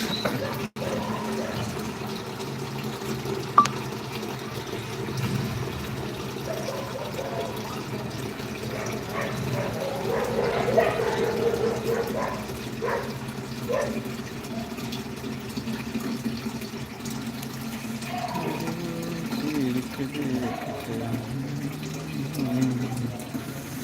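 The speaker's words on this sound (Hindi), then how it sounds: "पानी भर रहा हूँ" Water runs from a tap into a container as it fills, a steady splashing flow that shifts in tone, with a person talking over it.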